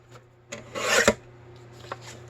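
Paper for a card is cut down by half an inch, giving a short raspy slicing sweep in the middle with a couple of faint scrapes around it, close and quiet, with no voice.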